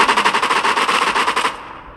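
Rapid automatic gunfire from the video game Gangs Town Story, a steady burst of about nine shots per second, loud and close, cutting off after about a second and a half.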